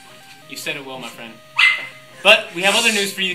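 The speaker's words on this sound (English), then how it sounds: "that was my dog that barked" A dog barks a few times close by, its short sharp barks mixed in with someone speaking steadily over it.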